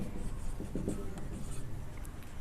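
Chalk or marker writing out a class 10 maths polynomial solution on a board, a close run of short scratchy strokes with small pauses between them, no voices.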